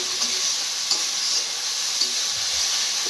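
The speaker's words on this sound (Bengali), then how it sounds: "ভালো করে ভেজে মশলাটা" Spices with turmeric and salt fry in a pan in a home kitchen, giving a steady, close sizzling hiss with faint stirring scrapes and occasional soft taps.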